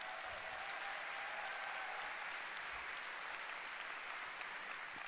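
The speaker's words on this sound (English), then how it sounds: "And so give yourselves a round of applause." Audience applause at a keynote address of the 2017 Shaklee global conference, a steady, fairly faint wash of clapping from a large crowd filling the whole stretch without a break.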